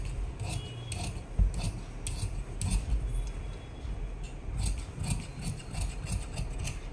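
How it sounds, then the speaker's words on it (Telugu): Scissors cut saree fabric along chalk markings for a long frock, making continuous crunching, rasping snips that repeat steadily and sit close and moderately loud, with no talking. "ఇప్పుడు ఈ మార్కింగ్స్ మీద మనం కటింగ్ అనేది చేసేసుకోవాలి"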